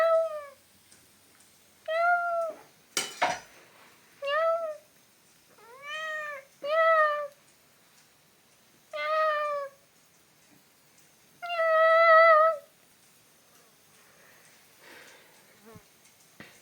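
A hungry cat meows repeatedly, about seven separate plaintive cries spaced a second or two apart, close and clear against a quiet background with a faint insect buzz.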